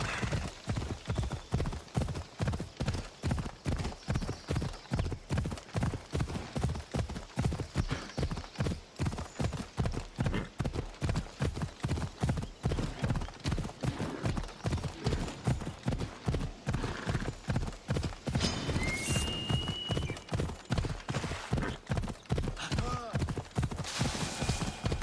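Hooves of a horse galloping in Assassin's Creed Odyssey, a steady fast clip-clop rhythm that keeps going close and loud throughout, with a brief whinny and faint game sounds layered over it.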